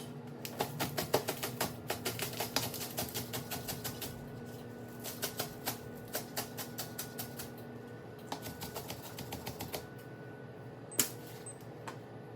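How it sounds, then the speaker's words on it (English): Knife chopping scallions on a cutting board in a home kitchen, a rapid run of sharp, close taps through the first half, then sparser chops with a louder single knock near the end. "We're gonna cut up our scallions."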